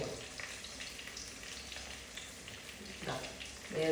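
Onions and shallots sauté in a pan with ginger, green chilli and garlic, making a quiet, soft sizzle with faint stirring scrapes and a little background murmur.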